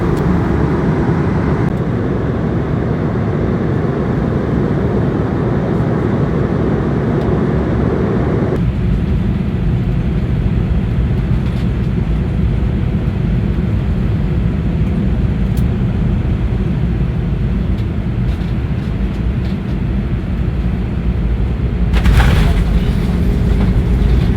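Steady airliner cabin drone after boarding, a broad continuous rumble with engine and air noise that shifts slightly partway through and stays loud throughout, with faint talk nearby.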